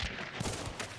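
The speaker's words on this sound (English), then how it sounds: "Shooting at me." Game gunfire in Hunt: Showdown, a dense burst of overlapping shots and reports packed into a single loud second, with no voices.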